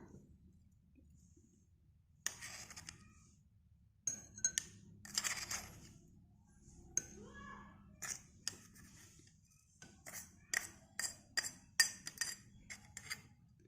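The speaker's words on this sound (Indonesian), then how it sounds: "Lalu kita aduk sampai merata." A metal spoon clinks against a clear glass of mineral water while stirring in coffee powder, making sharp, irregular taps and scrapes that grow quicker toward the end against a quiet background.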